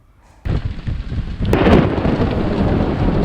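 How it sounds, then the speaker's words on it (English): A thunderstorm at sea during a sailing trip. Near-silence breaks into a sudden rumble of thunder, and a loud, continuous roar of sheeting rain follows and holds steady. "This wasn't a dangerous storm, except that the sheet rain made it impossible to see and, oh yes, the lightning."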